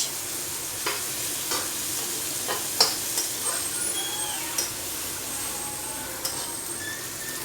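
Chopped capsicum sizzles with Maggi noodles in a pan. A constant soft frying hiss runs throughout while a utensil stirs and taps against the pan in irregular scrapes and clicks.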